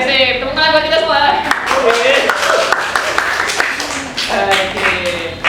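A classroom of students claps together in a burst of quick, dense applause, with a teacher's voice talking over and between the claps nearby.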